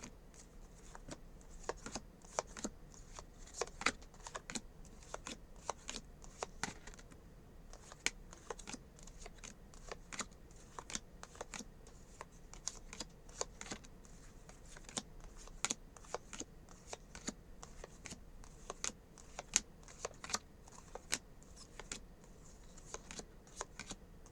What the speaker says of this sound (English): Just shuffling up the cards.